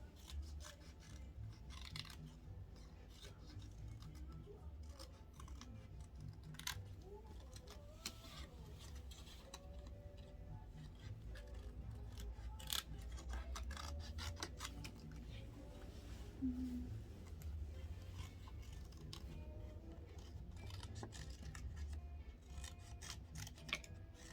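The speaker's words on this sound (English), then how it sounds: "Sorry, it's a lot of cutting." Scissors snip through paper again and again, cutting out spikes for a paper dragon craft, a steady run of crisp close cuts and rustles over a low indoor hum.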